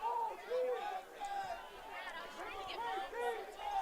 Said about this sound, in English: Concordia's crowd is getting into it here